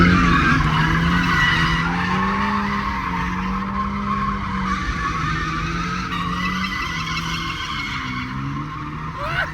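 A sports car drifting on a built skatepark, its tires squealing loudly and continuously over a droning, shifting engine note for the full stretch.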